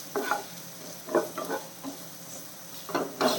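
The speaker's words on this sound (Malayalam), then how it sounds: "നല്ല രീതിയിൽ പഴം ഒന്ന് ഉടച്ചു കൊടുക്കണം" Ripe banana is mashed with a spoon, giving soft, wet squelching strokes and light scrapes in irregular bursts, close and fairly quiet, with no talking.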